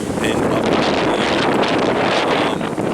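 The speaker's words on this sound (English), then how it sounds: "Very windy, very chilly, very damp." Strong wind from Hurricane Ian buffeting the microphone in a loud, continuous roar, with gusty rumbling that surges and eases slightly, in chilly, damp weather.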